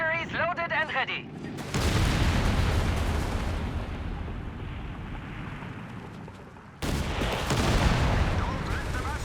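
Walking Stuka rocket artillery firing in Company of Heroes 3 during a 2v2 match, loud rushing rocket salvos and rumbling blasts filling most of the clip after a brief opening of voices, then a second burst near the end.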